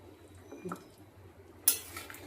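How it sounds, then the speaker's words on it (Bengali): A pot of light fish curry is stirred with soft wet squelches, and one sharp metallic clank of a utensil against the pot rings out near the end. "নাড়িয়ে চাড়িয়ে দিলাম"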